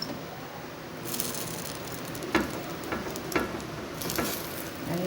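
Bread coated in sugared beaten egg sizzles steadily in a hot pan, with a soft continuous crackle broken by a few light clicks and taps of a utensil.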